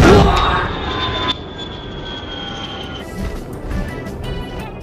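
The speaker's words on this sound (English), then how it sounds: "Hey bro, watch your jet. Watch your jet, bro." Jet aircraft engine in a Jurassic World video game: a loud roaring rush with a high whine that drops sharply after a burst, then a lower sustained engine drone, with no talking.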